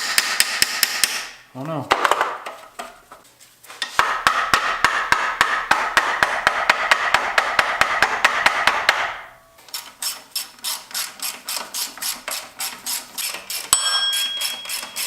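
Repeated loud hammer strikes on metal while fitting an eBay turbo to an LS-swapped Mustang, first a steady rapid series, then a slower run of distinct blows, with a brief exclamation early on.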